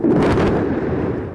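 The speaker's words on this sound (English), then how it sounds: "Overnight in Gaza, more explosions." A deep rumbling boom from an airstrike in Gaza rolls out loud and then decays slowly, like a heavy explosion heard at a distance, with no voices.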